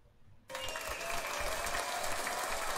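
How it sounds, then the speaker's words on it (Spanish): Applause bursts in abruptly after a quiet moment and continues as a loud, steady wash of clapping to the end. "Bien, que se sienta el aplauso."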